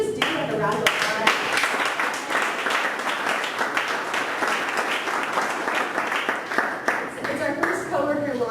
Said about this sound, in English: If we could just do like a round of applause.